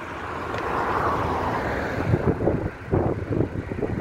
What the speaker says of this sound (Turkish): Rüzgar ne güzel esiyor